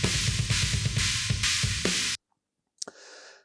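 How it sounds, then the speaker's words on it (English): Full drum kit mix with rototoms, dense rhythmic hits for about two seconds, then stops abruptly; a brief click and a short faint noise follow after the silence. "With the rototoms, it sounds like this"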